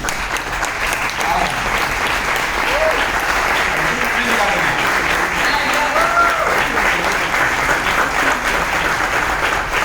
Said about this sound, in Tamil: பாராட்டு கொடுங்க